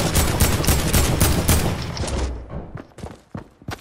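Video game gunfire in a rapid fusillade of loud, close shots. A dense burst gives way to sparser, separated shots near the end.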